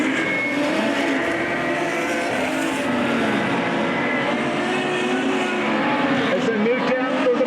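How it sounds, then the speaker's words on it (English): Modified sedan race cars roaring down the back straight of Albany Speedway at night, a sustained, droning engine pack close by with shifting pitch, under a race commentator's voice. "As they move down to the back straight once again, the race leader is car number 72, Martin Wilson."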